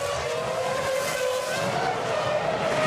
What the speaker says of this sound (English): Button, Raikkonen, Schumacher, the top 5 going up the hill into the Massenet, Casino Square